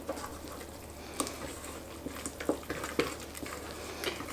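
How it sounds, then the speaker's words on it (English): Pecan pie filling being stirred with salt and nutmeg in a bowl, giving soft scraping and clinking strokes at an irregular pace against a low, steady background hum. "Stir all that together."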